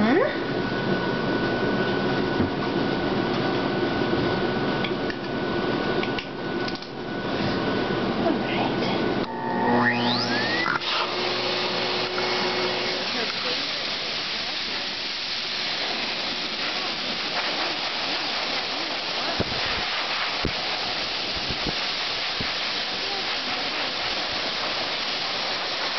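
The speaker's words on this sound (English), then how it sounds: "Let's get the blow-dryer nozzle on." A hair dryer with a nozzle attached drying a dog gives a loud, steady mechanical blowing drone throughout, shifting in tone partway as the airflow changes, with a voice speaking now and then over it.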